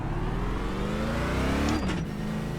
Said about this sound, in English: Get the car fired back up, get ready to roll.